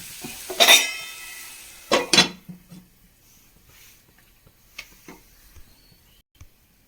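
Metal lid set down on a cooking pot of Kerala-style mango curry, a couple of sharp clanks near the start followed by a few softer scattered knocks in a quiet kitchen.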